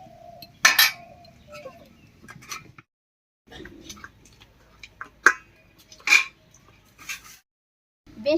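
A metal lid clinks down onto a pot of shola kochu (giant taro) topped with soaked chickpeas, set to boil: a few sharp, separate clinks and taps ring out with quiet gaps between them, and no one talks.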